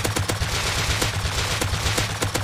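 Sustained automatic fire from the M2 in Rust, a dense, rapid stream of shots running steadily and loudly through the whole stretch, with no voices over it.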